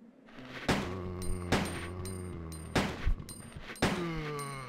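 Handgun shots in the Resident Evil 2 video game, about five loud, close reports spaced roughly a second apart, ringing over a tense tonal music backdrop.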